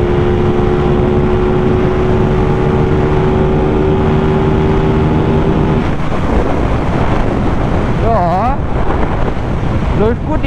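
Aprilia RS 660 sport motorcycle being ridden, its engine a steady drone buried under heavy wind rush from speed, with a held tone that drops away midway before the engine revs rise and fall again.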